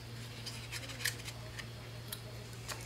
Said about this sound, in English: Take your scissors and just cut off the extra pieces.